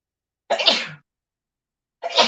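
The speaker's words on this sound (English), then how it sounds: "I'm going to sneeze." Two sneezes from a woman during a live astrology stream, the first a full burst and the second starting near the end after a silent gap, both close and clear with no talk over them.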